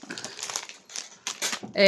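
Plastic bag of flour crinkling as it is handled in a kitchen, several close rustling bursts with short pauses, a voice partly over it.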